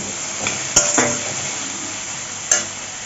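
Chilli powder and cashews frying in oil for a chicken curry, a close steady sizzle with a couple of sharp metallic utensil knocks against the pan.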